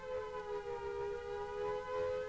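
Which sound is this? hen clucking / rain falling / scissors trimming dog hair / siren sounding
siren sounding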